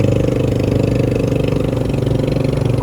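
A loud, steady motorboat engine drones nearby as a fast navy boat runs past in the Philippines, with a throbbing, rumbling tone that holds constant throughout.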